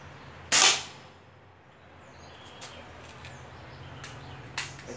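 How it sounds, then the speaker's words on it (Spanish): One sharp, loud shot from a PR900 or homemade PCP air rifle cracks close by at a shooting line, followed by quiet outdoor ambience with faint clicks and distant birds. "Vamos a hacer, como le dije, 10 disparos"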